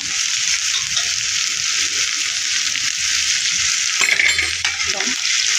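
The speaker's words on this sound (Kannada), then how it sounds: "ಚೆನ್ನಾಗಿ ಫ್ರೈ ಮಾಡ್ಕೊಳ್ಳೋಣ" Onions, ginger and crushed garlic fry in hot oil with a steady, loud broadband sizzle, and a few stirring scrapes and clinks of a utensil against the pan come near the end.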